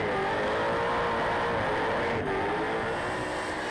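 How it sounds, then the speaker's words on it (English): A car engine revs high and sustained at the Summernats car festival, a loud strained whine that dips briefly and climbs again. "Let's just have a listen to his revs. Let's see what the engine's doing."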